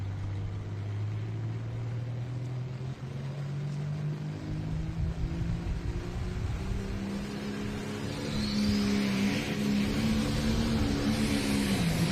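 A John Deere 5020 tractor under heavy load at a county fair truck and tractor pull, its engine drone rising steadily in pitch and loudness as it pulls, loud and continuous.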